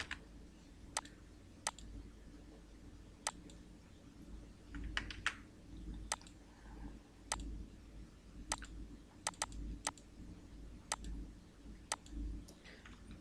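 Keys clatter on a computer keyboard in a quiet room, a steady run of sharp individual clicks spaced irregularly, close and fairly soft, with no one speaking.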